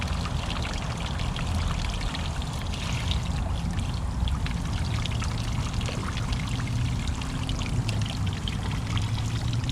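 Water pours steadily into a sink while a tie-dye shirt is rinsed in cold water, a continuous close rushing splash with faint irregular spatters throughout and no talk.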